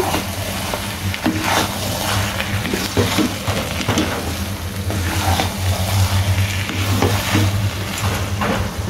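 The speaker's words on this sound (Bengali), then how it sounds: "একটু টক টক ঝাল ঝাল মিষ্টি আচার দিয়ে আমি এটা নেড়ে দেব" Khichuri stirred in a pan with sweet mango pickle, a continuous close sizzle and hiss with soft scraping strokes of the spoon and a low steady hum underneath.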